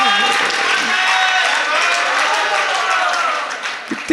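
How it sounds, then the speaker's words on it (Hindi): An audience at a Jain sermon led by Acharya Vishudh Sagar applauds with loud, sustained clapping that fills the hall at close range, then fades briefly near the end. "कितनी ताली बजा रहे हो"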